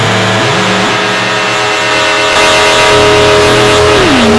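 A complex oscillator synthesizer holds a bright, buzzy sustained tone soaked in reverb, its pitch stepping up and then gliding down in smooth slides, loud and alone with no talking.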